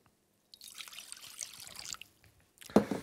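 Water poured from a tap or jug in a kitchen while cooking a Greek potato dish, a steady trickling stream lasting a couple of seconds, ending in a louder splash, close by with no talking.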